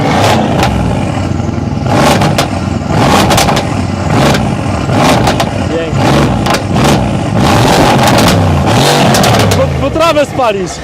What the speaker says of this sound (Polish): A dodaj troszeczkę gazu.